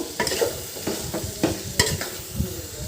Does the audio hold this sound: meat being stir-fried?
yes